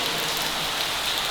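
Heavy rain pours down in a dense, steady hiss of drops that fills the whole short stretch, close and loud with no voices.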